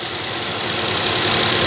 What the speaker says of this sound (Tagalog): Nagre-react yung makina.